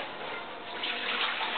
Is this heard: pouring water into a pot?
yes